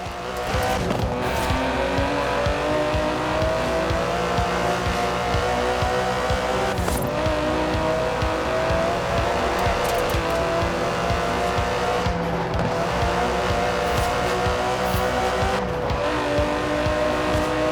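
An Aston Martin DB11 with a 5.2-litre twin-turbo V12, driven in Forza Horizon 4, roars continuously at high revs with brief tire squeals and shifts, loud and sustained with no speech.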